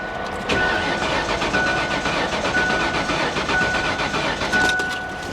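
A 1998 Ford Explorer V8 cranks over on a booster pack, a loud rhythmic chugging with regular pulses that runs steadily for about five seconds without catching.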